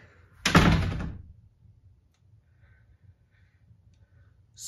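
A single loud rattling thunk of a locked bathroom door being pulled against its latch, followed by near silence and faint small sounds.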